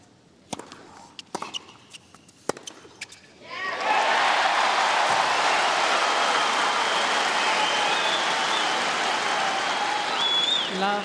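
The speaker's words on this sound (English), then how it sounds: "I don't think that round of applause would be making the official feel all that good." Crowd applause at an Australian Open 2009 quarterfinal tennis match swells into loud sustained clapping after a few sharp ball hits and court sounds, filling the arena evenly for several seconds.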